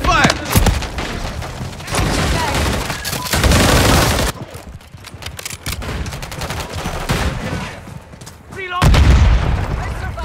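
Gunfire in Call of Duty Modern Warfare 3 multiplayer war mode: dense, loud bursts of shots and booming explosions in two heavy stretches, with quieter sporadic shots between and voices shouting over the action.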